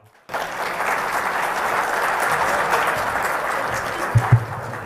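Sustained applause from an audience at an Urdu poetry gathering (mushaira) in Doha, starting abruptly and holding steady and dense, with a couple of louder thumps near the end.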